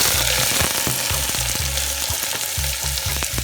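Onions frying in oil for a lentil dish give a steady, close sizzle with short stirring scrapes and knocks scattered throughout.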